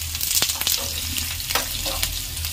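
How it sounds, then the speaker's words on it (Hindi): Garlic, cumin and dry chillies frying in a pan for a kulthi dal, giving a steady, close sizzle with scattered crackles and pops throughout and no voices. "और सारे लहसुन को हम इसमें डाल देंगे। अब इसे हम भून लेते हैं।"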